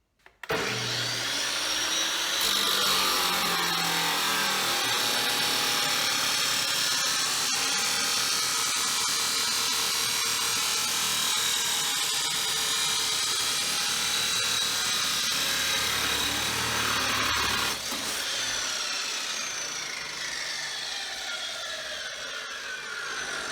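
A budget power tool cuts through thick metal, giving a loud, continuous high-pitched grinding whine that holds steady for about fifteen seconds and then tapers off as the blade slows.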